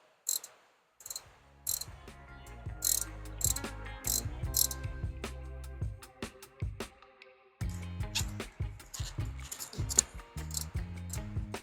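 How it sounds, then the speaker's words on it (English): A ratchet breaks loose the oil drain fitting on a Hyundai Palisade or Kia Telluride during an oil leak repair, giving rapid clicking and metallic ticks in bursts, close and fairly loud, with a short pause partway through. "I'm just going to break it loose with the ratchet and not an impact of any kind."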